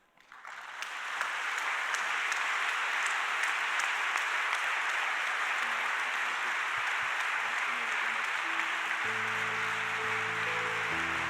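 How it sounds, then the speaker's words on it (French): A church congregation bursts into applause that swells within a second and holds as a broad, even roar of many hands, with a few sustained musical notes entering near the end. "J'espère sincèrement que c'est le Seigneur qui est applaudi."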